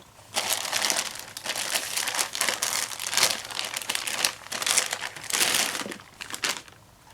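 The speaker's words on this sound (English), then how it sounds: "Pull the side pieces off." Packaging side pieces pulled off a cheap dual car stereo unit: continuous close crinkling and crunching of foam and plastic wrap, in bursts of rustle lasting about seven seconds.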